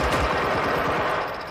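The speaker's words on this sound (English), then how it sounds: "I mean, this is my running gun, Jan." A player's running gun fires in Generation Zero, a quick, loud volley of rapid automatic shots that thins out slightly toward the end, with no talk.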